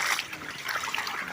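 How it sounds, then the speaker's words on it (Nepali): Fast-flowing floodwater rushes through a damaged village near a riverside ghat, giving a steady, close, hissing stream of moving water with no speech over it. "हेर्नु यहाँ पानीको रफ्तार हेर्नु।"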